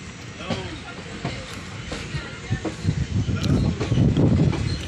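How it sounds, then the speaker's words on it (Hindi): A train rolling on rails between Harangajao and Guwahati, a steady rumble with faint clicks from the track, while someone talks over it throughout. "आज ट्रेन से जा रहा हूँ मैं गुवाहाटी।"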